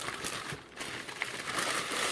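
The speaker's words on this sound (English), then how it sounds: "Packaging." Smartwatch packaging is handled and opened, giving about two seconds of close, busy crinkling and rustling of plastic with small crackles and no speech.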